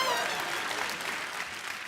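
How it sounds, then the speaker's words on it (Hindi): Loud, dense applause from a studio audience on a comedy talk show fills the whole stretch, steady and close with no voices on top. "इनके लिए जोरदार तालियां हो जाए।"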